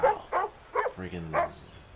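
Dogs in the video game Assassin's Creed Rogue give a few short, close barks and yips in quick succession, then a brief whine.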